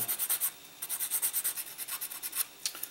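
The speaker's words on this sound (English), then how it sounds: "The plastic on this kit is very hard plastic, so it takes quite a bit of sanding to get to remove the material." Rapid back-and-forth sanding strokes on the hard plastic of a King Ghidorah model kit, close and rhythmic, each stroke a crisp abrasive scrape, with a brief pause partway through.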